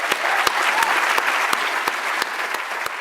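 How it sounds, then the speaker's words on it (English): Sustained audience applause filling a hall, dense and steady with a few sharper claps standing out in a regular pattern, loud throughout and with no talking over it. "Please let's all give them a applause."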